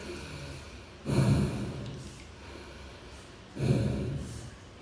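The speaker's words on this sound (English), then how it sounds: "Through the mouth, you can breathe slow." Slow breaths drawn through the mouth during a conscious connected breathing exercise, two long airy breaths spaced a few seconds apart, close and fairly loud against a quiet room.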